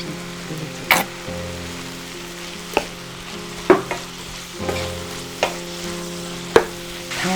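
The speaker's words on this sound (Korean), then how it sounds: "다음에 야채를 넣고 탁탁 볶아내는 거" Carrot, onion, red chili and sliced garlic stir-fry in a little oil for spicy squid, with a steady crackling sizzle broken by sharp spatula knocks against the pan every second or so, close up and with no speech.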